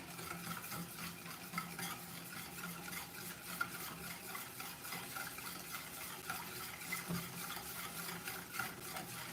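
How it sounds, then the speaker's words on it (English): Egg yolks being whisked in a pan over very light heat, a faint steady scraping and stirring texture with soft clinks, continuous and low in level. "So super light heat, and we're just gonna start whisking it"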